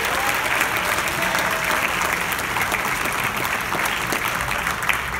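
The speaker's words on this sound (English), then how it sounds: "Give yourselves a round of applause." Dense, sustained audience applause at a college jazz band concert fills the whole stretch at steady, loud volume, a thick wash of many hands clapping with no break.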